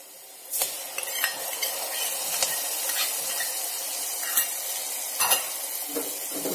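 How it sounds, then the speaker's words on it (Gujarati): Masala paste is stirred in a hot frying pan, a continuous sizzle with repeated scraping strokes of a spoon against the metal, close and clear, with no talking. "બધું બરાબર મિક્સ કરશું।"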